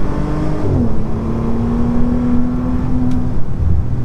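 A Bentley Continental GT engine revs up smoothly as the car accelerates, a loud, steady drone climbing in pitch then holding for a few seconds, close and alone with no talk.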